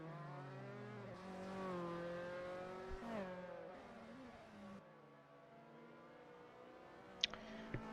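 A safety car's engine screams in a sim racing game at Monaco, a sustained harmonic engine whine rising and falling through revs, then settling into a lower drone, with a few sharp clicks near the end.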